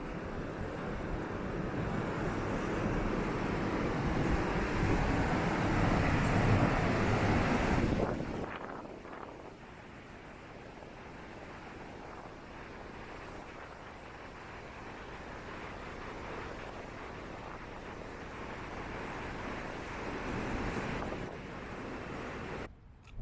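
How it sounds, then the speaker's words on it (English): Strong wind roars and buffets the microphone on a cold, blustery winter day at a park in Winter Haven, Florida. It is loud and steady for the first eight seconds, then drops to a lower gusting rush that swells again near the end. "It's a cold and windy day."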